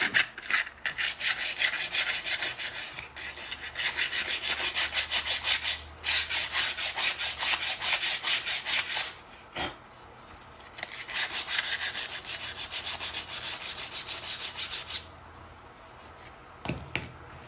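Engine flywheel on a 1970 Atlas snowblower being scrubbed clean in long, loud rasping bursts separated by short pauses, close by, with no voices.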